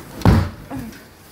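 A house's back door closes with one solid thud, then a lighter knock follows about half a second later as it settles. Both sounds are close, with a quiet room around them.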